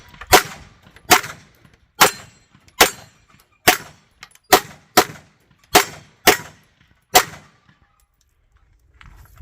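Gunfire from a Tisas Night Stalker 1911 DS pistol: ten sharp, loud, close shots in a fairly steady string about one per second, each with a ringing, clanging crack, then quiet.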